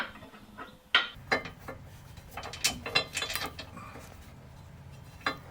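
A nut driver ratchets in short clicking runs during a receiver hitch install, faint and close, with scattered metallic taps and pauses between bursts.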